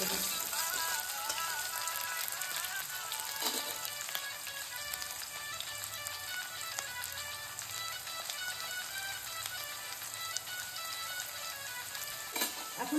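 Potato pieces fry in a pan of hot oil, giving off a steady, dense crackle and sizzle that runs evenly throughout at moderate closeness, with no talking.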